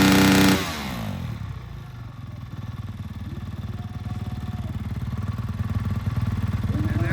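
A dirt bike engine at a Supercross sound check idles steadily with a rapid, throbbing exhaust pulse after a brief louder burst at the start, sounding close and continuous.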